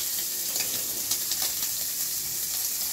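Onion fries in oil for prawn chowmein, making a constant bright, hissing sizzle with small crackles, close and steady, with no voices.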